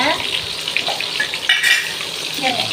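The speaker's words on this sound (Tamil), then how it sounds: "சின்ன வெங்காயம் போட்டு நல்லா வதங்குது" Small shallots sauté with spices in a pan for Mangalore chicken uppu kari. A loud, steady frying sizzle runs throughout, with stirring and occasional utensil clinks against the pan and no talking.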